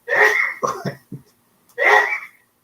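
A close, sharp sneeze, followed by a few short breathy sounds and then a second sneeze.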